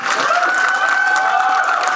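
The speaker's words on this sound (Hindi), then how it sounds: "एक बार जोरदार तालियां" Steady applause from a crowd at a movie trailer launch event fills the space, dense clapping holding at an even level with a sustained tone ringing beneath it.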